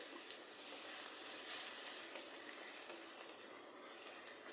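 Crushed onion frying in hot oil in a pan with cumin and mustard seeds, a steady soft sizzle and hiss throughout with no talking.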